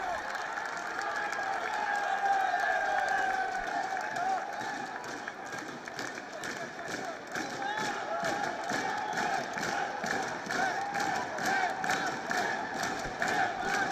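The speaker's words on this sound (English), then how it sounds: "the crowd is getting excited. They can sense victory here. They're already celebrating" A cricket crowd at a Nepal vs UAE World Cricket League 2 match roars and cheers in a sustained, swelling din, with whistles and shouts rising over the mass of voices, under a commentator talking.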